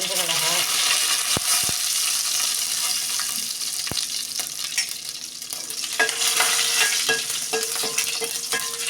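Mustard seeds and dried chilies crackle in hot tempering oil, a bright sizzle with scattered sharp pops and the scrape of stirring, close up and fairly soft.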